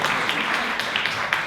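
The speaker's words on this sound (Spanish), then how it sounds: "Un aplauso, que es una niña" Brief applause from an audience for a young girl at a storytelling event, a dense patter of clapping filling the whole moment at moderate volume, with a voice faintly mixed in.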